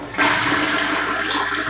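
A rusty-looking apartment toilet flushes with a sudden loud whoosh of water that holds steady and then starts to trail off, with no talking over it.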